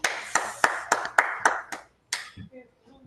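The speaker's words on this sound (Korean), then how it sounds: "박수로 환영합니다" Welcoming applause at a church lecture gathering, a small group of hands clapping in distinct sharp claps about every third of a second, near and fairly quiet, stopping abruptly before a brief low murmur.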